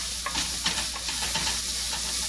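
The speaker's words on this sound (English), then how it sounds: "If your onions are nicely chopped, you just have to saute it for around a minute." Chopped onions sauteing in a pan for poha with salt added, giving a steady, close sizzle with bursts of scraping from stirring throughout.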